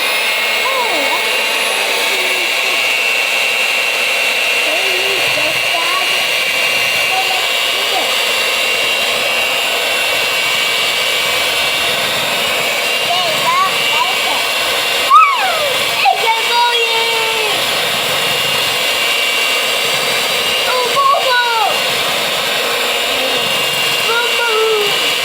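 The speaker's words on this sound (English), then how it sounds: "Now I'm going to mix and scrape the edges off" An electric hand mixer churns cookie dough in a home kitchen. It gives a steady, continuous whir all the way through, with a few brief knocks and a voice briefly over it.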